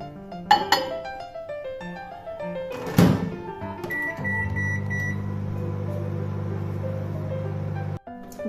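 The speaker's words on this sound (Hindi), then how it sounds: "और अब इसे 2 मिनट के लिए माइक्रोवेव करेंगे।" A microwave oven runs with a steady low hum after a few clunks of the door closing and button beeps, heating peanuts in salted water; the hum holds for several seconds, then stops abruptly with a beep.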